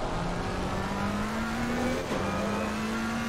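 A Ferrari race car engine in a racing video game at Circuit of the Americas, droning steadily and climbing in pitch with a quick dip at a gear shift, then pulling again, with no talk.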